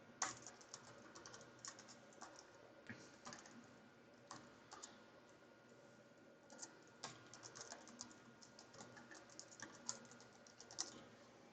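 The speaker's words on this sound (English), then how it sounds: "I'll just type it out." Continuous keyboard typing on a computer during a Python and Flask project setup, a steady patter of quiet key clicks with small bursts and no talk.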